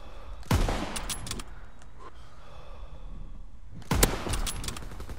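Two loud, sharp gunshots from Call of Duty WW2 online play crack about three and a half seconds apart, each followed by a short echoing tail, with quiet background between them.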